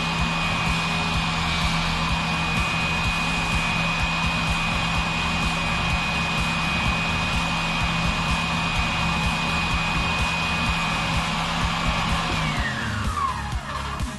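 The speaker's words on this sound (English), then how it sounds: "I'm going to take the burrs off of them." An oscillating multi-tool deburring freshly cut pieces for a vacuum wheel fix gives a steady, loud, high-pitched buzzing whine for several seconds, then winds down at the end with no talking.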